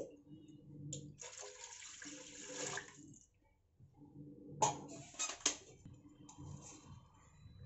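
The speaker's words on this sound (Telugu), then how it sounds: "ఇప్పుడు దీంట్లో 2 గ్లాసులు నీళ్లు పోసుకుందామండి" Water from a glass is poured into a pot of rice for mushroom biryani in a home kitchen: two quiet, splashing pours separated by a short pause.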